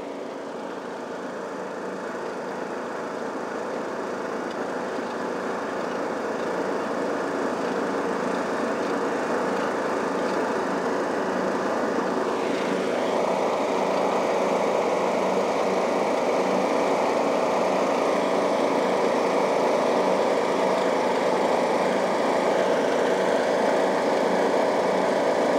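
A lawn mower runs steadily on a typical New England lawn, its engine droning loud and close for the whole stretch with a brief pitch shift midway and no talk.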